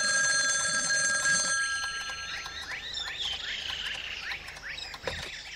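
A telephone rings in a cartoon scene, a bright repeated electronic trill that sounds loud and steady for about a second and a half, then stops and leaves faint chirping noises behind.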